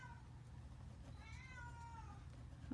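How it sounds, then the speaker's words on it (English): A cat meows a couple of times in the background, a drawn-out faint cry over a low steady hum. "I apologize for the cat meowing in the background if you can hear that."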